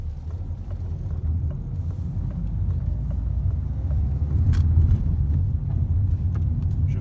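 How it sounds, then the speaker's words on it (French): A car engine idles with a steady low rumble during a driving lesson, continuous and fairly close, with faint mechanical clicks on top. "le bruit du moteur"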